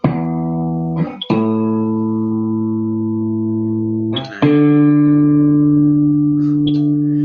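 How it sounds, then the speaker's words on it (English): An electric guitar run through a compressor effect is tuned: a few plucked chords ring out long and even, each held for seconds before the next strike, with no talking. "Excuse me while I tune my guitar."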